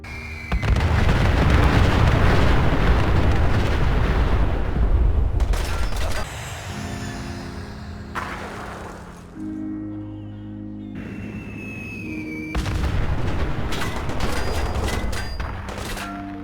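Bomb-run explosions hit the ground in a Fallout 4 game mod: a string of loud, deep blasts and bursts with rolling rumble, easing into quieter echoing debris, then another heavy barrage.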